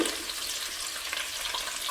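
Chopped onion hits a hot pan for a sausage, cabbage and potato soup, setting off a bright, steady sizzle that stays close and loud for a couple of seconds with no talking.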